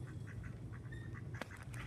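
Soft, repeated duck quacks from ducks in a pool over a steady low background hum, with a sharper burst of sound near the end.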